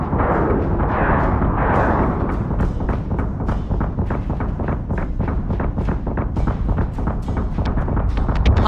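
Warship guns in Battlestar Galactica Deadlock pound away in a steady, rapid barrage of heavy booms and thuds, loud and continuous over a rumbling background.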